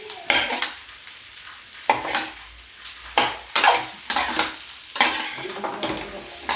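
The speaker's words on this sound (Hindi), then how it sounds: "अब इसी समय में प्याज के साथ ही हम डाल देते हैं आलू।" Potatoes tossed into frying onions in a pan, a sizzle broken by regular scraping stirs about once a second, loud and close with no speech.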